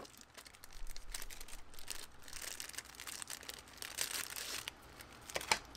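Plastic bag crinkles and rustles softly up close, irregular crackling handling noise with no talking.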